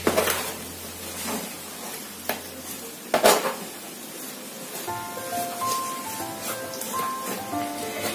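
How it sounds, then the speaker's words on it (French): Fertilizer being mixed by hand into potting soil in a large plant pot: soft scraping and rustling stirs with a few louder bumps, close and moderately quiet, over faint steady background tones. "Donc je mélange ça ici avec la terre"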